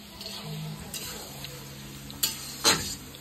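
Onions fry in a kadai with a low steady sizzle, close by, broken by a couple of sharp scraping clinks from a stirring utensil against the pan.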